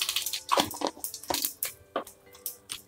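Mustard seeds and asafoetida tempering in hot oil in a kadai, giving a close run of quick irregular pops and crackles with wet spattering, no talk.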